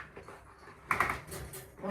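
A dog licks at its surgery wound with wet, smacking laps that come in a close, irregular burst partway through, against a quiet indoor background.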